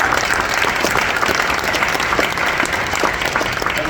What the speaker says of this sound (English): so let's give Pat a round of applause